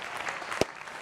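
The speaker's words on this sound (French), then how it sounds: "On va l'applaudir très fort encore." Audience applause at a live Wam show, steady clapping from a crowd throughout the short burst with one sharper clap standing out near the middle.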